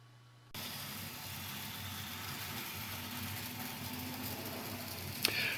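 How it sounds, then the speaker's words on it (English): Model train locomotives run around a layout, making a steady, continuous low motor hum and rumble that starts abruptly and holds at an even level, with a faint click near the end. "I got a couple of engines running around the layout just to watch trains run, or at least locomotives."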